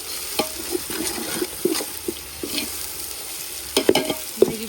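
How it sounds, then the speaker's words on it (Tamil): Ginger garlic paste is sautéed with onions for mutton biryani, a low sizzle under repeated spatula scrapes and clacks on the pan, coming as scattered strokes with a livelier cluster near the end. "இஞ்சி பூண்டு பேஸ்ட் சேர்த்து நல்லா வதக்கிக்கலாம்"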